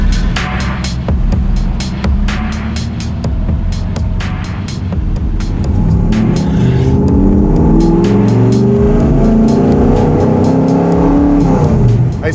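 A 1967 Ford FIA Fastback Mustang driving on the road, its loud engine droning and rising as it accelerates through the gears, with rhythmic clicking ticks over the steady roar.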